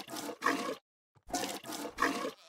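Minecraft cow-milking sound effect from the video game, heard as two short separate bursts, each a few quick noisy pulses, loud and alone.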